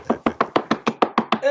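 Nine sharp, evenly spaced knocks on a door, loud and close, in a quick steady rhythm, with a brief tonal sound at the very end.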